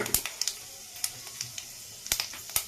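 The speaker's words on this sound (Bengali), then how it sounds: "তেলটা গরম হয়ে গেছে আমি এতে দিয়ে দেবো সামান্য একদম অল্প পরিমাণে পাঁচ ফোড়ন" Panch phoron spices crackle in hot oil with scattered sharp little pops and ticks over a faint sizzle, quiet and without any talking.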